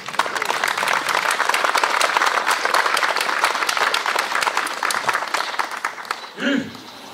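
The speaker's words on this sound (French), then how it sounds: "et vous demande de l'applaudir." An audience at a Schweissdissi Tag gathering in Mulhouse applauds steadily for about six seconds, a dense, fairly loud wash of clapping that thins out near the end as a voice briefly breaks through.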